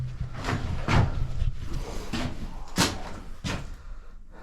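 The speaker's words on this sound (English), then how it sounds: "Door's a bit stiff." Stiff wooden door of a shingle-roofed mountain hut being forced open, with several knocking, scraping thumps spread over a few seconds, fairly close and moderately loud.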